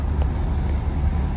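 Lorries rumbling at the ferry port in Igoumenitsa, a steady low engine drone heard from the deck of a large ferry, continuous and fairly loud with no distinct passes.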